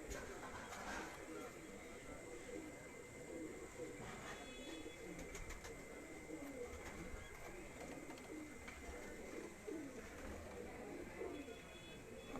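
Pigeons coo steadily at a rural dera in Gujrat, a soft continuous murmur of birds heard at moderate distance over a busy background of outdoor noise, with faint voices mixed in.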